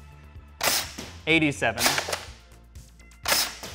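A Dart Zone Pro-Series MK-4 foam dart blaster fires sharp, close shots a few at a time, with a person speaking briefly between them.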